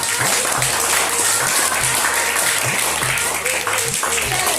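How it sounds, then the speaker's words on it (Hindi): Children at a school library activity clap loudly for their group, a dense, steady burst of applause filling the whole stretch with a rumbling, noisy background underneath. "जोरदार तालियां बजाइए अपने ग्रुप के लिए"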